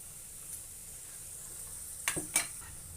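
Chana dal frying in a pan, a soft steady sizzle with two sharp scraping clinks of a utensil against the pan near the end.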